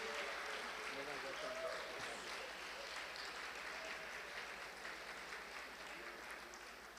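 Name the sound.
applause as Madam Parveen Akhtar enters the hall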